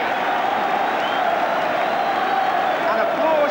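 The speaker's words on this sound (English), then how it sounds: "And applause ringing round the stadium for the Arsenal goalkeeper." A stadium crowd at the City Ground applauds the Arsenal goalkeeper after his penalty save against Nottingham Forest, a steady wash of distant clapping and crowd roar throughout.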